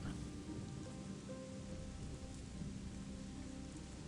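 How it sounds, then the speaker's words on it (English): Steady rain in a video game, The Chronicles of Myrtana: Archolos, pattering down in a dense, continuous hiss, with no voices and a faint low rumble underneath. "Now that it's raining, I can't see jack diddly squat."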